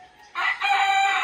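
A rooster crows loudly and close by, a single strong call rising after a brief quiet start and holding to the end, with no talk over it.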